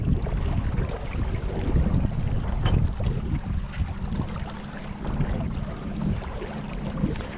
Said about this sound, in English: now we got the wind to our backs, which is going to help us